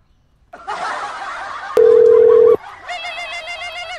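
Telephone ringback and call tones on an outgoing call, a burst of electronic tone followed by a steady loud held beep, then warbling tones, with no talk.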